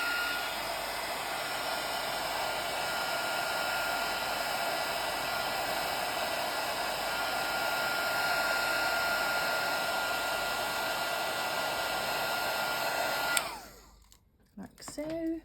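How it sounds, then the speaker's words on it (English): A heat embossing tool blows a constant loud whirring hum over a Halloween card, running steadily for about thirteen seconds before switching off abruptly into near quiet. "I've got our heat tool. I'm just going to heat emboss that."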